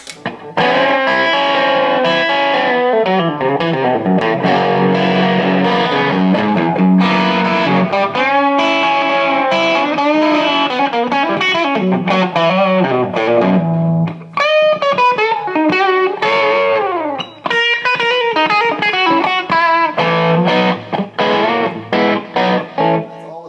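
A sustained electric guitar solo through a Line 6 Spider III 75 amp's solo setting, with a singing, effected lead tone, bending and sliding through melodic phrases over nearly constant loud playing.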